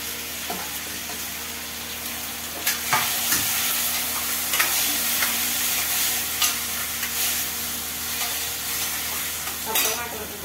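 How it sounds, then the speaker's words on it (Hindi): Cashews, onion and tomato frying in a pan for a home-cooked Indian dish, a steady close sizzle with intermittent scraping and stirring strokes of a spatula across the metal. "अब टमाटर को जला ले रहे"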